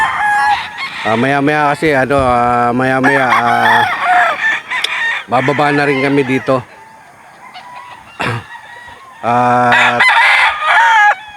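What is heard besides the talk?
rooster crowing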